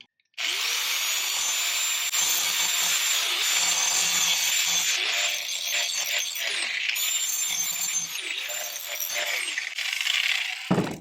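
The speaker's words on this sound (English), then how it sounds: "this is the cheap way to sharpen this tool, or any garden tool" A garden tool being sharpened with a cheap power-tool grinding setup, a steady loud whirring grind that runs almost unbroken for about ten seconds, with slight changes in pitch and pressure and no talking.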